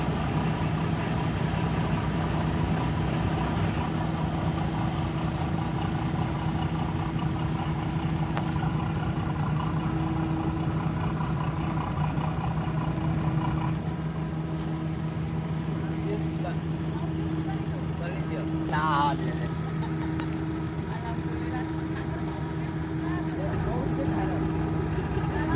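A ferry's engine runs steadily and rises as it throttles up while casting off, a continuous close mechanical drone with people talking over it.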